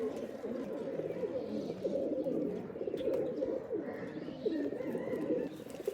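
Rajshahi Giribaz pigeons coo in a steady, overlapping series of low, throaty murmurs, close and continuous throughout, with faint other bird chirps in the background.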